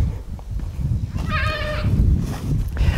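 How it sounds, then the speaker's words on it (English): A goat kept in a front yard lets out one clear, wavering bleat midway, with a fainter second call near the end, over low rumbling background noise outdoors. "We got 3 other yard goats back here. They're already hollering for me."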